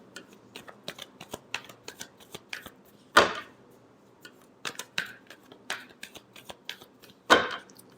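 A deck of tarot cards is shuffled by hand up close, giving repeated crisp riffling flutters and soft snaps, with two louder bursts of cards rippling together.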